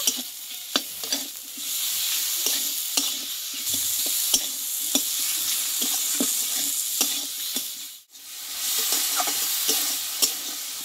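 Masala of chopped tomato, salt and turmeric sizzles in a pan while being stirred, a constant bright frying hiss broken by repeated scraping clicks of the spatula and one brief pause.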